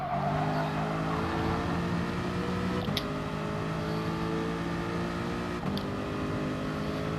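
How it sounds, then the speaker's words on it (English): A car engine in the GT Sport racing game holds a steady, high-pitched drone at constant revs, with two brief clicks of gear shifts breaking the sustained tone. "The engine wouldn't be very happy the way I'm driving it"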